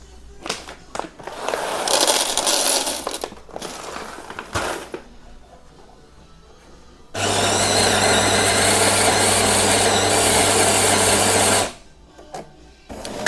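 A Jura E8 coffee machine fitted with Chinese Aroma+ burrs grinds coffee beans in a loud, steady burst of several seconds, with a low hum underneath. It comes after quieter mechanical whirring and ends abruptly.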